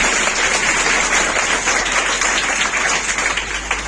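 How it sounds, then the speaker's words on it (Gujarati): An audience claps loudly and steadily for a prize winner at an awards announcement, a dense roll of many hands that continues throughout without pause. "ચાલો જોરદાર તાળી થઈ જાય."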